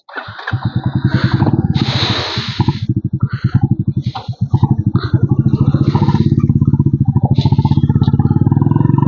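Royal Enfield Bullet motorcycle riding, its single-cylinder engine thumping in a steady rapid beat, close and loud throughout, with brief revving and a voice talking over it.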